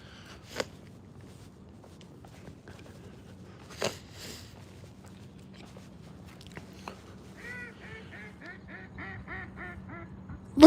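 Ducks or geese calling near a fishing spot outdoors, a few sharp isolated honks early on, then a rapid run of repeated nasal quacks building toward the end over quiet background.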